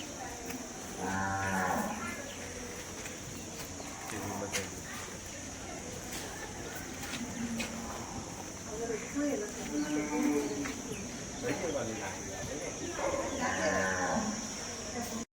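Cattle at a cow shelter beside an ISKCON temple moo several times, drawn-out low calls at moderate distance, with people talking over the busy yard.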